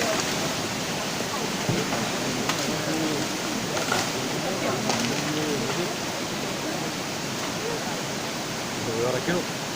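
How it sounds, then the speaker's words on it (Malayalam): Floodwater rushes and roars steadily during heavy monsoon rain in Kerala, a dense, continuous wash of water noise close by, with faint voices now and then beneath it. "വെള്ളം വരുന്നേ ഉള്ളൂ. ഇതാ മേലെ വരുന്നേ ഉള്ളൂ."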